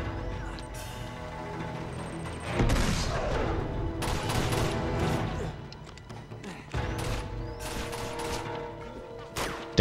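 Rapid bursts of gunfire and crashing impacts in Uncharted 2, loud volleys coming in clusters with short pauses between them.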